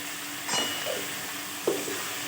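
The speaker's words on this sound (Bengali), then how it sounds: "এইগুলোকে দিয়ে ভেজে নিচ্ছি।" Onions, garlic, ginger, ground chili paste and tomato fry in oil with a steady low sizzle, broken by two brief louder stirring scrapes near the start and end.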